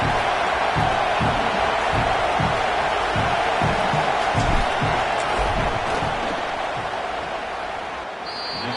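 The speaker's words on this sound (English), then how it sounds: "This crowd trying to do its part to get inside the kicker's head." Roaring crowd noise fills a college football stadium at Nebraska as North Dakota State lines up a field goal attempt, a steady dense wall of voices and cheering that holds throughout and eases slightly near the end.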